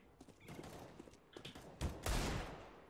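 Gunfire in the video game CS:GO, a burst of several sharp shots followed by a louder, heavier volley near the end, close and fairly loud with no talk over it.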